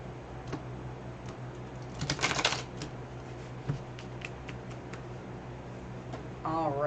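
Oracle cards riffle and flap in a few quick bursts, with scattered clicks and taps close by over low background hiss; a voice briefly at the end.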